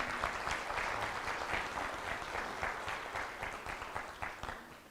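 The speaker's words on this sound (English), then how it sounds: "Yes, applause is welcome, yes." An audience applauds warmly at a talk, with dense clapping that slowly thins and softens toward the end.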